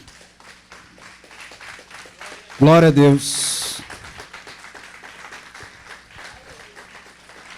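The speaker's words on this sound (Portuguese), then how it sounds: "Então fica de pé e vamos aplaudir o Senhor bem forte" A church congregation standing to applaud loudly during a sermon, a sustained wash of clapping beneath a preacher's voice, with a shouted praise and a brief high burst partway through.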